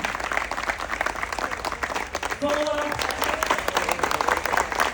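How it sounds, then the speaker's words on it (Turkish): Strong applause from an audience at a Balkan cultural event in Buca, a dense wash of clapping that runs steadily throughout, with a voice speaking briefly over it. "Kuvvetli alkışlar efendim Bursa Belediyesi ve Devama Belediyesi için"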